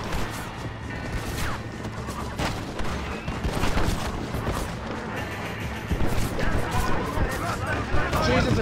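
Repeated gunshots and crashing impacts in Red Dead Redemption, loud and close, with bursts of fire coming in waves and faint voices underneath.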